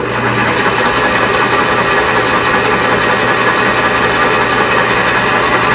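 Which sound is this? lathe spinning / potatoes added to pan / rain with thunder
lathe spinning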